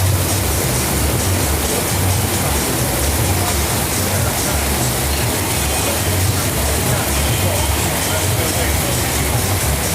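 Heavy rain pouring down at night on a street in Thailand, a dense, loud, unbroken hiss and roar lasting throughout with no break.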